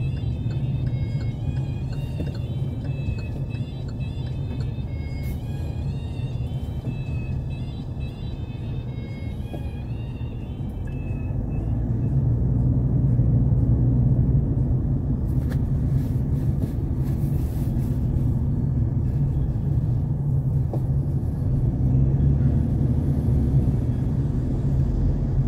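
Steady low road rumble and tire noise from a car cruising on a Korean expressway between Hanam Dream and Yeoju rest areas, a continuous near drone that swells slightly louder midway, with no talk.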